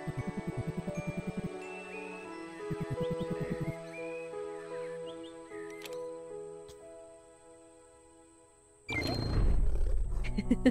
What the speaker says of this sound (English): The skill I am about to teach you is known as Lion's Roar.